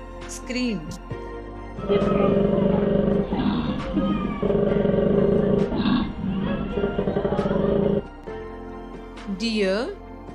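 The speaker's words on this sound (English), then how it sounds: "Koala scream." A koala screams in a deep, pulsing, roar-like bellow that rumbles steadily for several seconds, bracketed by brief higher squeals.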